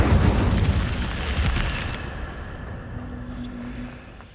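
A fire spell cast in the game Hogwarts Legacy bursts out as a loud, roaring whoosh of flame with a booming low rumble, then trails off into a softer crackling hum over several seconds.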